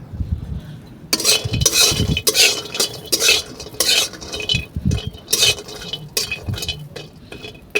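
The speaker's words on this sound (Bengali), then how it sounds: "একটু হালকা ব্রাউন করে ভেজে আমি নামিয়ে দেব" A metal spatula scrapes and stirs repeatedly in a wok on a village clay stove, over a light sizzle of frying, loud rhythmic clanks up close.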